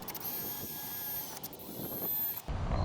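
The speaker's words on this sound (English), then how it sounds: "when you drill these, just go through the metal, but don't go any further than that." A drill bores holes through the metal frame of an Andersen 2000 Series storm door, a close whirring, ratcheting grind that runs steadily and then stops with a clunk near the end.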